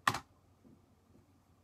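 A single sharp computer keyboard key press during a Windows XP game, near and crisp, followed by very faint clicks in near silence.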